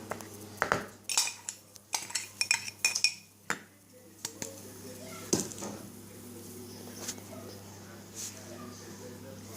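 A spoon scrapes and clinks against a bowl while sugar and coarse semolina are mixed, a run of quick clattering strokes up front fading to softer, sparse stirring, with a voice faintly speaking underneath.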